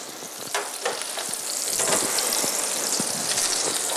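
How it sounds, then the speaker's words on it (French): Butter browning in a pan, a close, steady frying crackle and hiss with scattered pops that grows a little louder and denser partway through, no voices over it. "Vous voyez là le beurre est légèrement noisette, juste légèrement coloré"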